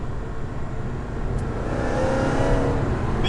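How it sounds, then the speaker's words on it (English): A Cadillac CT5-V Blackwing's supercharged LSA engine accelerates inside the closed cabin, a rising engine drone with a faint supercharger whine building gradually, no voices. "You can hear that LSA whining just a little bit when we get on it."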